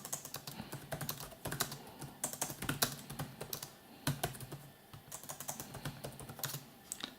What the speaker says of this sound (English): let's test the keyboard. Just to see how fast do I write.